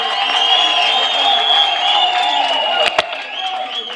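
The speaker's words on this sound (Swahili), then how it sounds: "tuwachapie makofi" An audience applauds county leaders at a Meru County launch event, a steady wash of clapping and crowd noise that holds evenly throughout and dips briefly near the end.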